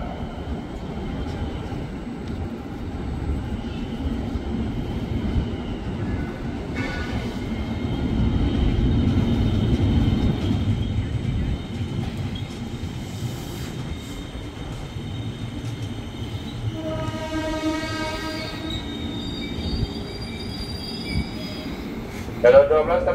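KRL Commuter Line electric trains, JR 205 and TM 600 sets, at the upper level of Manggarai station: a steady rumble of rolling cars with high wheel squeal rising midway, a sustained tonal whine near the end, no talk.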